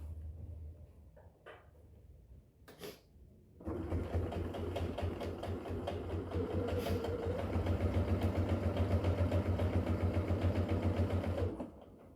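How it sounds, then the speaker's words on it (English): A sewing machine top stitches a zipper, starting with a couple of short clicks and bursts, then running in a steady, fast, close-up whir for about eight seconds before stopping. "I'm going to come back and I'm going to top stitch it so it lays nice"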